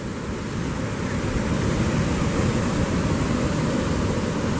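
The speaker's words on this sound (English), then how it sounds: "there's some major waves washing here" Ocean waves wash onto a beach at St Lucia, a steady, dense roar of surf with constant wind-like hiss and no distinct breaks, loud and close.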